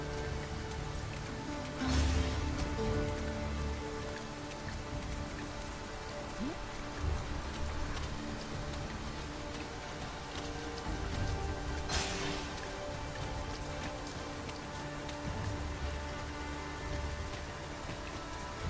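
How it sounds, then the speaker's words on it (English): Steady heavy rain pours continuously in the video game Dragon's Dogma 2, a dense even patter on surfaces, with a couple of brief louder gusts of splashing along the way. "This downpour seems unlikely to abate."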